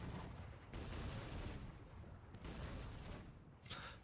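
Cannon fire booms in a Cossacks 3 battle, with repeated heavy blasts and volleys over a constant rumble of combat, fairly quiet overall and a brief voice in the mix.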